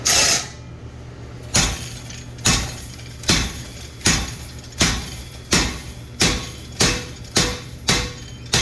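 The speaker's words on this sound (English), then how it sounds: "This is a 3/8 diameter on my guillotine fuller, okay, on my treadle hammer." Heavy metallic treadle hammer blows with a guillotine fuller striking hot steel, about a dozen evenly spaced hits in a steady rhythm, each with a sharp ringing clang and short decay.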